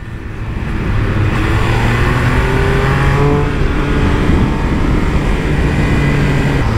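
Triumph Speed Triple 1200 RR motorcycle ridden hard on the Ascari circuit track, a loud sustained engine roar with rising and shifting pitch under heavy wind noise.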